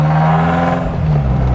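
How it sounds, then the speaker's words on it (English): A 1997 BMW Z3 with a modified exhaust idles with a deep, throaty rumble, running steadily and close, with a slight rise in revs toward the end. "You can hear the previous owner has done a little bit of something to the exhaust"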